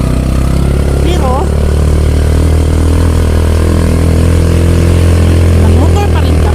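A steady, loud motorcycle engine drone while riding, with wind noise and a voice talking briefly over it.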